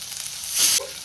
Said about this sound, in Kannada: ಸ್ವಲ್ಪ ಹಸಿ ವಾಸನೆ ಹೋಗೋದಂತ ಫ್ರೈ ಮಾಡಿದ್ರೆ ಸಾಕಾಗುತ್ತೆ.